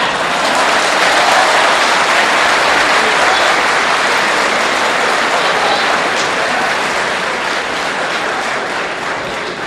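A debate audience claps and applauds loudly, a dense sustained roar of many hands that runs for nearly ten seconds and fades only slightly at the end.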